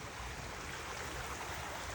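Creek water flows beneath dense, shady trees along the Arroyo Trabuco, a steady broadband rush with no voices.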